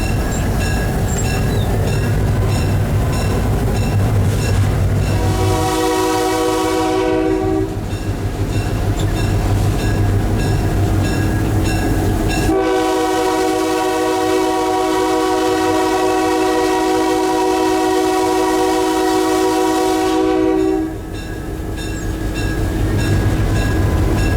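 A 1964 EMD GP35 diesel locomotive rumbles past with a loud, steady roar, sounding its multi-tone horn in two long blasts over the engine noise.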